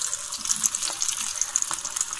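Bread samosas fry in hot oil, giving a close, continuous crackling sizzle with small popping spits.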